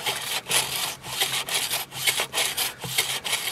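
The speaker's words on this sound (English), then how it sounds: "this motor is starting to make grinding noises" A desiccant dehumidifier's worn motor grinds as it turns, giving a rough, scratchy rasp that repeats in steady pulses about every half second, close and fairly loud with no voices.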